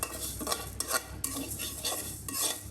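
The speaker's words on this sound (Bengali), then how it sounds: "মুগ ডালটা ভেজে নিচ্ছি ভিউয়ার্স।" Mung dal frying in a pan, stirred continuously with scraping strokes over a low sizzle, close up and with no voices.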